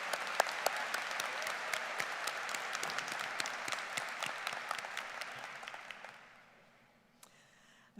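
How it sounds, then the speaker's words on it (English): A large audience at a university spring commencement ceremony gives sustained, dense applause that holds steady for about six seconds, then fades quickly into near silence. "Let's give them both another round of applause."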